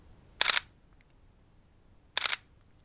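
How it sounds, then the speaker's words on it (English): A Sony A6000 camera fires its shutter twice with the mechanical first curtain enabled: two crisp, close mechanical snaps about 1.8 seconds apart, over near silence. "here then is the shutter sound with the mechanical first curtain"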